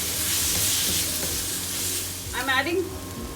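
Loud hissing sizzle of green chilies frying in a pan, with stirring and a brief burst of voice partway through.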